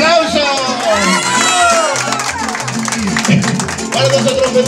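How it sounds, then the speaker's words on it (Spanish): A crowd at a serenade cheers and claps in a dense, steady wash of voices and hand noise, with music playing underneath and a few louder shouts rising above the babble. "¡El aplauso!"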